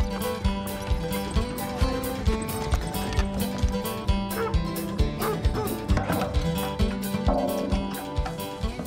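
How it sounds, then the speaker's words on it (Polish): A horse pulls a Mennonite wagon, its hooves striking in a steady, even clip-clop rhythm throughout, loud and close over a tonal background. "Menonita może jeździć tylko wozem zaprzęgniętym w konia."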